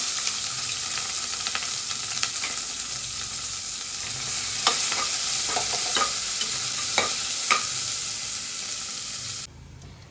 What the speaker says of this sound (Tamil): வெங்காயம் நல்லா வதங்கிருக்குங்க